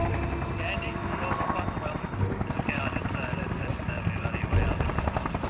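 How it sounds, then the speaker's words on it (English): A distant helicopter beats steadily on a wildlife rescue for baby rhinos, its rotor thrum continuous and moderately loud throughout. "Suddenly, the sound of a chopper in the distance."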